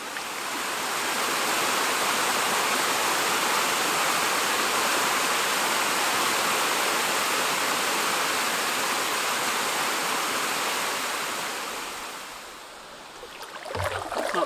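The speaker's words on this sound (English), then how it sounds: "I can hear and see a little bit of waterfall back there in the woods." A small waterfall in the woods at a Temagami canoe campsite, a steady broadband rush of falling water that swells and holds, then fades near the end as a few handling knocks come through.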